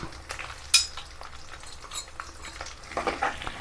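Chili powder, turmeric and fenugreek powder fry in oil over a low flame for a gooseberry pickle while a spoon stirs them. A soft, steady sizzle runs throughout, with faint scraping and one brief metallic clink.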